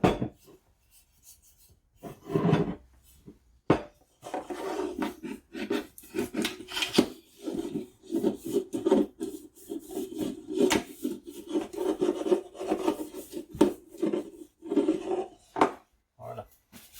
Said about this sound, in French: Lorsque vous huilez vos moules, utilisez vos mains.